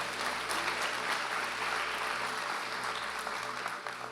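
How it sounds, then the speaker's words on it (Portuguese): An audience at a church service claps steadily, a dense sustained round of applause that fades slightly toward the end. "Você pode aplaudir o nome dele essa noite?"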